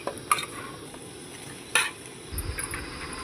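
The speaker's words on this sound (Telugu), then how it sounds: "ఇప్పుడు ముందుగా మ్యాగ్నేట్ చేసుకున్న చికెన్ దాంట్లో యాడ్ చేసుకోవాలి." Marinated chicken goes into a hot pan with curry leaves for chicken curry, giving a low sizzle beneath sharp metallic clinks and scrapes of a spoon, with the frying swelling louder toward the end.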